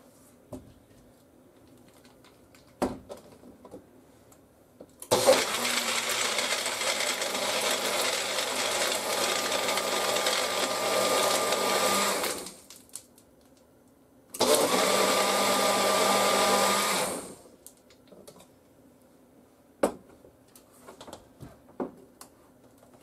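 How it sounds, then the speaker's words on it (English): A blender roars loudly as it crushes ice cubes at a campsite, running in two long bursts with a brief pause between, and faint clicks and taps before and after. "You can just put all of your ice cubes in your blender and blend it up."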